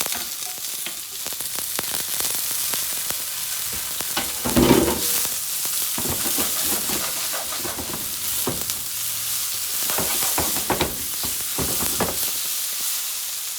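Hashbrowns frying in oil in a pan, a continuous close crackling sizzle with scattered spits and pops and occasional stirring clatter throughout.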